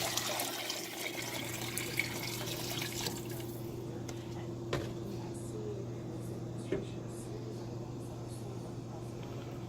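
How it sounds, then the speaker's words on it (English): Beef broth is poured into a pot of meatball soup, a soft splashing pour that fades after a few seconds, leaving a steady low hum and a few faint knocks. "And last, I will add the rest of the beef broth."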